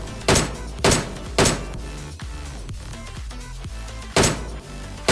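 Gunshots in a mobile shooting game, a handful of sharp, loud bursts spaced a second or so apart with quieter thuds between.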